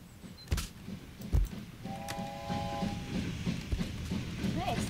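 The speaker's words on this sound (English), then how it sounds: "Hey, it's the train." A train in the video game Wobbly Life rumbles past with clattering knocks and a short steady whistle tone, while a person talks over it now and then.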